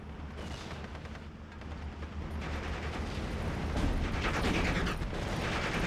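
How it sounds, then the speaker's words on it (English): Wurfrahmen rocket artillery fires in Steel Division: Normandy 44 at Pegasus Bridge, a dense rolling stream of launches and rumbling blasts that swells steadily louder, with mechanical rattling throughout. "Going to be letting this Wurfrahmen fire away to try and take out the 6-pounder"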